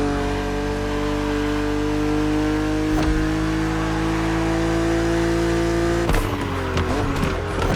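A BMW Z roadster races in The Crew Motorfest: a steady, loud engine drone holds a sustained pitch with faint tire noise, then shifts abruptly near the end as the revs change and the engine roars harder.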